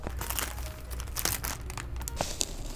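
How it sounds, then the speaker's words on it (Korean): Plastic packaging for Xexymix workout clothes crinkles and tears continuously up close, with sharp rustling bursts and no talking. "그러면 바로 제시 믹스를 뜯어볼게요."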